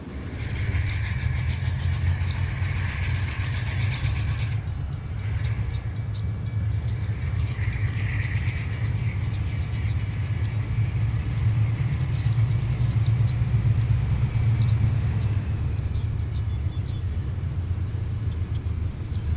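A Green Bay and Western freight train, the Plover Turn, rumbles past steadily with wheel clatter and rail noise, fairly loud and continuous, with brief higher squeals and no voices.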